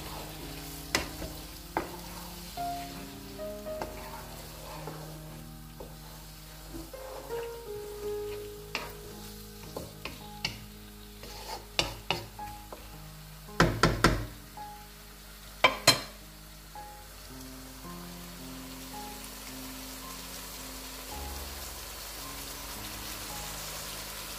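Lamb meat being fried bhuna-style in a pot for a restaurant-style lamb balti, a soft continuous sizzle broken by scraping stirs and sharp clanks of a spoon against the pot, with no talking.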